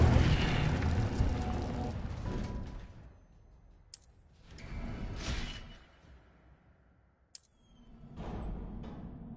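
An Incendio fire spell in the Hogwarts game sends out three whooshing bursts of flame, each swelling loudly and then fading, with short magical chimes between them.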